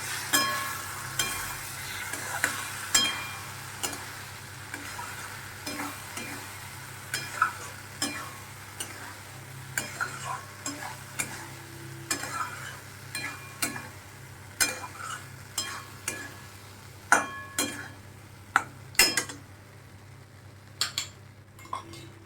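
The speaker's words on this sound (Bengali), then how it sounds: "এবার একটু মশলাটাকে কষে নেব" A spice paste with turmeric and chilli is stir-fried in a pan: a soft, constant sizzle is broken by repeated scraping clinks of a spoon against metal, irregular and close.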